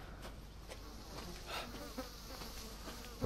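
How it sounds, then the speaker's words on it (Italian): Flies buzz around in a Resident Evil 7 haunted-house scene set in Louisiana, a quiet, wavering drone with a few louder swells as they pass close. "mi muovo in mezzo alle mosche"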